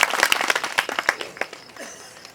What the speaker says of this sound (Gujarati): તો એક વખત જોરદાર તાળીઓના ગડગડાટથી